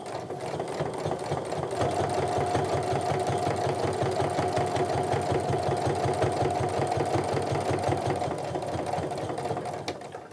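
A sewing machine runs steadily as it stitches a tote bag, its needle hammering in a fast, even rhythm under a constant motor hum, up close and alone for the full stretch.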